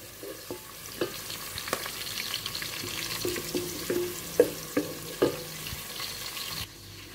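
Chicken that was recently taken from the freezer sizzles and spits in a frying pan, a steady close crackle with occasional stirring clinks and louder pops, no talking.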